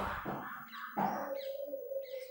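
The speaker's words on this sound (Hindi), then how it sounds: "चिड़ियाओं की आवाज़ सुन रहे हो" Birds calling nearby, with a few short chirps and a sustained whistling note, fairly clear over quiet background.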